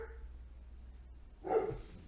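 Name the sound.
dog barking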